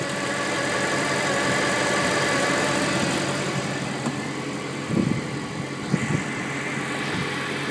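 The 6.2-liter dual overhead cam V8 of a 2011 Mercedes-Benz SLS AMG idles steadily with a dense, rumbling drone, close up and constant, with a couple of faint knocks near the end.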